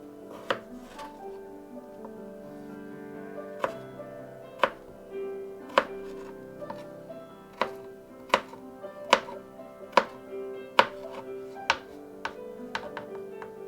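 A knife dicing ingredients for pastrami hash on a cutting board, a string of crisp, irregular chops that speed up toward the end, close and clear over a sustained musical tone.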